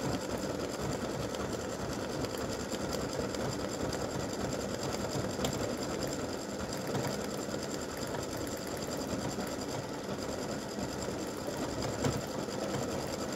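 An embroidery machine stitches green thread on a breast cancer awareness ribbon, a steady, fast mechanical whirring that runs evenly and close throughout, without speech.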